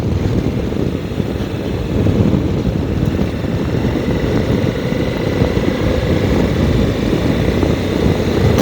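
A Suzuki V-Strom 1050XT motorcycle engine drones continuously while riding, a loud steady rumble mixed with wind roar and no talking.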